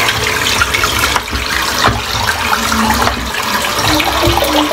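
Tap water runs in a steady, full gush while hands are wetted at a sink before a head shave, loud and close with no talking.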